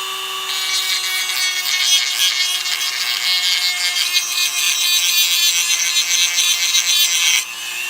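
A Dremel rotary tool smoothing an epoxy patch where it overlaps an old wheel, a close, steady high-pitched whine with rasping abrasion that cuts off just before the end.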